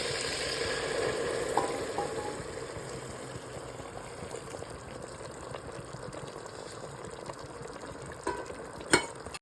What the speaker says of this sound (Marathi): आता त्याच्यामध्ये मी 2 ग्लास गरम पाणी जे केलेलं आहे ते आता मी ॲड करत आहे.